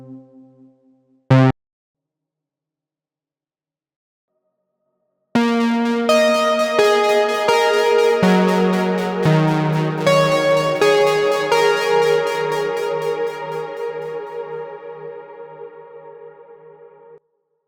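Bright synth lead preset previewed, a short blip and then after a pause a sustained melodic phrase of ringing, harmonically rich notes that gradually fade, clean and upfront with no talking.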